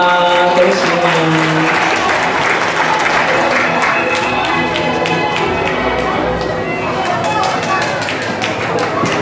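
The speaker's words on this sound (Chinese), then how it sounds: "我们也请现场的家长再次给热烈掌声" Audience applause fills a panda graduation ceremony as parents clap warmly, a dense steady patter of many hands close by, with voices and an announcer talking over it throughout.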